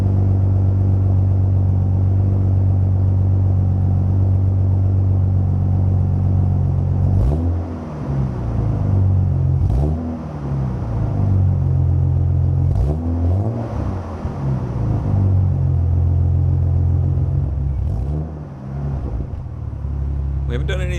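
A Toyota MKII Supra engine idles while warming up after new valve seals, a steady low rumble with a few brief revs rising and falling, close and loud, with a voice talking over it.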